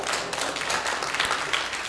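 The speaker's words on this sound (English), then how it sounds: "If you believe that, give God a hand clap." A church congregation applauding during a sermon, a brief, dense wash of many hands clapping together at steady loudness.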